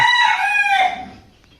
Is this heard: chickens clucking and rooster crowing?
yes